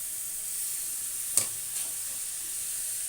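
Onions frying with salt and turmeric, a soft continuous sizzle hiss with one brief clink of a utensil midway, quiet and steady, no talking.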